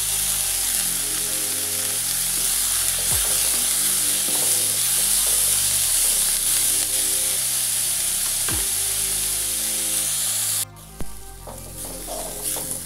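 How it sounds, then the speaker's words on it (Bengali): Onions are stirred and sautéed in a pan for a taro leaf dish, giving a loud, constant sizzle with a few sharp clinks from the utensil, then a sudden drop to a quieter hiss near the end. "পেঁয়াজটা একটু নেড়ে চেড়ে নিয়েছি।"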